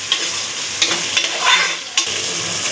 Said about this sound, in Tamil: நல்லா ஃப்ரை பண்ணிக்குவோம். தக்காளி நல்லா வதங்கட்டும் ஃப்ரெண்ட்ஸ்.